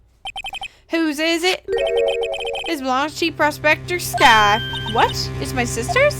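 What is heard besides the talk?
phone ringtone ringing in a video game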